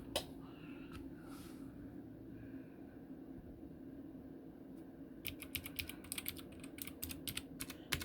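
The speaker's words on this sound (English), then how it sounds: "This is not even a mechanical keyboard, so I don't know why it would sound the same." Typing on an RK61 compact keyboard, not a mechanical type: a quiet stretch with a few isolated taps, then a rapid run of light, close key clicks over a low background hum.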